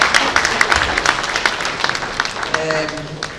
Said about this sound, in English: another round of applause for our birthday boy